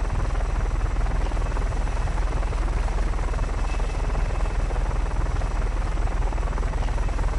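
A helicopter in the video game Just Cause 3 gives off a steady, loud rotor drone with a constant whine and no pauses or talk.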